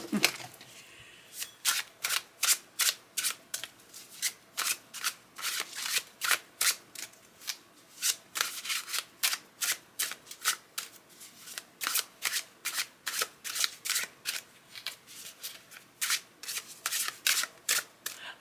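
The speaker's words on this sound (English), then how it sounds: "there are many ways to shuffle cards" Tarot cards being shuffled over and over, a crisp riffling burst repeating in a steady rhythm, close and clear with no talking.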